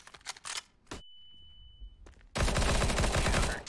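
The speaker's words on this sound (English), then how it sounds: "Flashbang." In a CS:GO match, a flashbang goes off: quick clicks and a sharp burst, then a thin high ringing tone over near silence, followed by loud, dense gunfire-like crackle.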